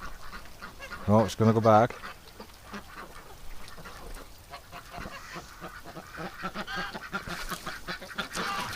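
A few ducks give loud, close quacks in a quick cluster, followed by softer scattered calls, while a person talks over the scene.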